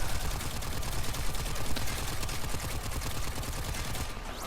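Quellor weapon firing in Warframe, a dense, continuous rattle of rapid shots and impacts sustained for several seconds, moderately loud, without speech.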